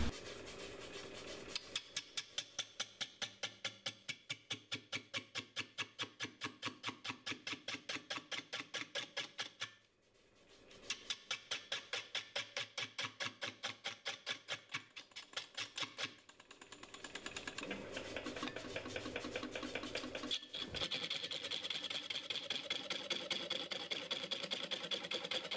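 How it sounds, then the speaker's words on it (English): A wood lathe turning a walnut piece at about 300 to 400 rpm gives a fast, even clattering rhythm with a continuous motor hum, close and moderately quiet, briefly dropping out near the middle before resuming, with no voices. "I'm going to start the lathe out probably"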